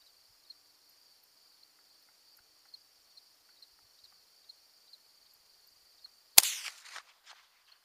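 A single sharp .22 LR rifle shot cracks loud and close after a long stretch of quiet, then fades into a short rattle. Crickets chirp steadily in the background beforehand, with a few soft ticks outdoors.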